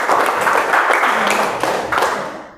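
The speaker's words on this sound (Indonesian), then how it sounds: "kita beri aplaus" A classroom group of teacher trainees claps for group 3, a dense burst of close, steady applause that lasts a couple of seconds and fades out at the end.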